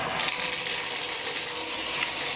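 Water refilling a beach pool in a cartoon, a steady loud rushing gush with a hissing edge that runs continuously and alone, without talk.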